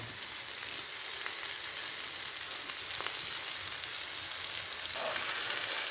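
Sardines frying in hot oil in a pan for a Kerala fish fry, a dense, steady, close sizzle with faint crackles and a slight swell near the end.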